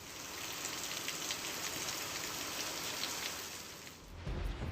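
Heavy early-morning rain pours down in Amreli, Gujarat, as a dense, steady hiss of falling water. A brief low rumble thumps in near the end.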